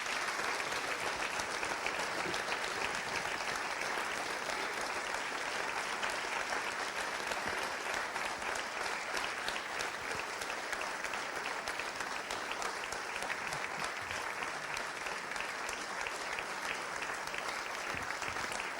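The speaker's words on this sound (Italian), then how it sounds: "Ti lascio godere di questo applauso, meritatissimo." Sustained applause from an indoor audience at a public talk, dense steady clapping holding at an even level throughout with no speech over it.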